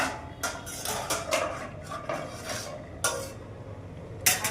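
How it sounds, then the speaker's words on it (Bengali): A metal cooking pot lid lifted and handled during stovetop cooking of a Bengali dish, giving several close, light clinks and clatters spaced irregularly, with a sharper metallic knock near the end. "আবার ঢাকনা তুললাম।"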